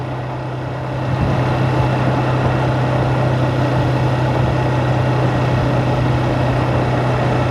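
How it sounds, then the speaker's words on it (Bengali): A motorbike rides along an empty road at night, its engine a steady loud drone with a low hum that rises after the first second and holds evenly, with rushing wind noise and no talk. "বিশেষ করে এরকম ফাঁকা রাস্তায় বাইক রাইডিং করে অনেক মজা লাগে"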